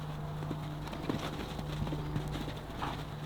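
Hooves of playful horses clip-clopping, including a young three-year-old, in a steady irregular patter of muffled thuds heard close, with a constant low hum underneath.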